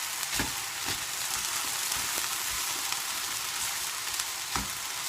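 Fish fries in a pan as it is broken into flakes: a bright, continuous sizzle close by, punctuated by occasional soft scraping knocks of a utensil, with no voices.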